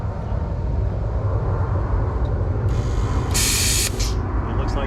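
A plasma cutter runs on its onboard compressor, giving a steady loud rushing hiss with a brief sharper burst of air near the end, close and alone.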